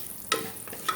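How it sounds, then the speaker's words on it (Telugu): Biryani masala with a little fennel fries in a pot, a soft continuous sizzle with two brief stirring scrapes about half a second apart. "బిర్యానీ మసాలా, కొంచెం అరోమా బయటకు వచ్చే వరకు ఫ్రై చేయాలి."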